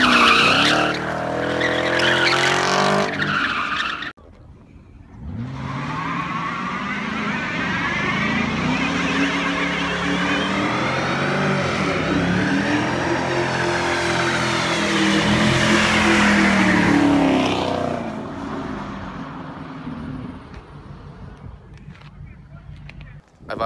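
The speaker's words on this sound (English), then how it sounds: "I've obviously done a lot of burnouts with them" A car on worn, bald Blizzak snow tires does a long burnout. After a brief pause, loud sustained tire squeal and skidding grind on for about fifteen seconds, then fade. Speech is heard at the start.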